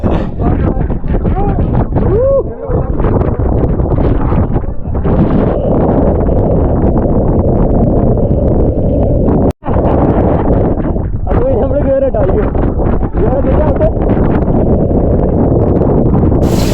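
Strong wind on the trek to Harihar Fort buffets the microphone almost continuously, a loud rumbling roar with brief gusts and a momentary drop, while a voice faintly talks underneath.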